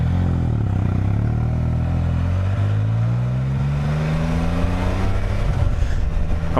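A Can-Am Spyder engine runs rough while down a cylinder and misfiring from a failing ignition coil, a loud, close, steady drone with uneven pulsing and a rising pitch near the end.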